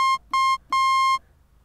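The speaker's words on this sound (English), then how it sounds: "you put another oscillator in and it's another sawtooth, one octave above. It sounds like this." Synthesizer tone built from two sawtooth oscillators tuned exactly one octave apart, played as three bright buzzy sustained notes, two short and one longer, with no other sound.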